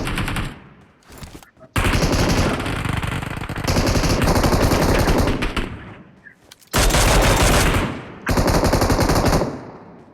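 Gunfire in the BGMI battle royale game on the Erangel map, heard as loud, sustained automatic bursts in several long volleys separated by short pauses.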